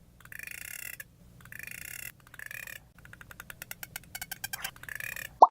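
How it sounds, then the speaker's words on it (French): A beluga whale calls in a run of high chirping, buzzing bursts, first in longer trills and then in quick clicking pulses, with a sharp squeak at the end. "It's the beluga whale."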